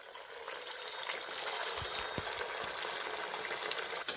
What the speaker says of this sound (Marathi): बाकीचे सगळे वडे मी असं तळून घेते.